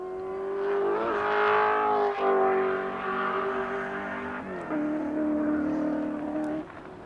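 A Holden Commodore touring car, number 25, racing at Mount Panorama, its engine loud and close with a steady high drone, a sharp dip near two seconds and a downshift around four and a half seconds before it builds again.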